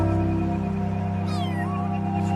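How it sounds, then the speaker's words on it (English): Small kitten meowing by a street, a thin wavering cry over a steady loud background hum; the meows are brief and only moderately clear above the noise. "trembling as she meowed for help."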